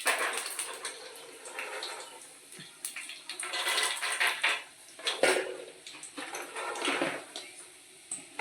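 Peanuts poured into a pan while making kara boondi, a close rattling and clattering that rises and falls in several bursts over a few seconds, with a watery rushing quality.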